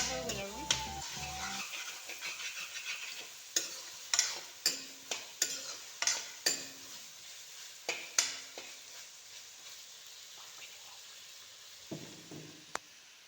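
Onions and green chilies with tomato frying in a hostel pan before Maggi noodles go in, a steady sizzle cut by a run of regular, sharp spoon scrapes and taps against the pan.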